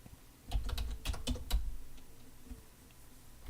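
Computer keyboard typing while code is written, a quick burst of several crisp keystrokes followed by quieter pauses, close and alone with no talk.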